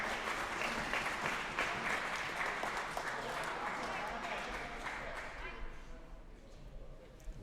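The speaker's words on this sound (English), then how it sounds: "Give these gentlemen a round of applause." Applause at a jiu-jitsu black belt and teen tournament, steady and fairly loud through the whole stretch with crowd murmur and a commentator's voice over it, easing slightly toward the end.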